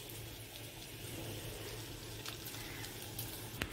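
Bay leaves dropped into hot oil with dried red chillies, a steady soft sizzle and fry crackle running evenly throughout, with a few faint clicks near the end.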